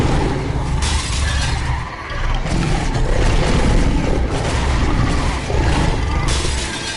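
Glass shattering in The Wolf Among Us, a dense, loud crashing spray of breaking shards that keeps going for several seconds over heavy low rumbling game sound.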